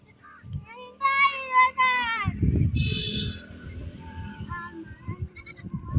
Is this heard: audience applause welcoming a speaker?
no